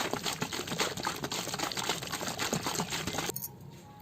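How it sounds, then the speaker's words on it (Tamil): Kulukki sarbath with green chili, lemon and sugar being shaken hard in a closed container, a rapid rattling, sloshing churn of liquid and ice that stops abruptly near the end. "இதே மாதிரி ஒரு 5 மினிட்ஸ்க்கு மேலே நல்லா குலுக்கி எடுத்துக்கணும்."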